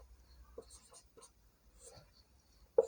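Faint, scattered scratches of words being written on a board during a Hindi grammar lesson, with brief strokes separated by pauses and a slightly louder tap at the end.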